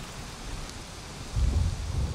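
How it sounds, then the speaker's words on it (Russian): Rain in the video game Valheim, a steady low wash of falling rain with a faint rumble that swells louder in the last second, no voices. "Дождь заканчивается"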